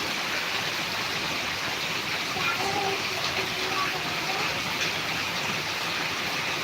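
Flood water from heavy rain in Karnataka rushes in a steady, broad roar that stays loud and even throughout, with faint voices mixed in.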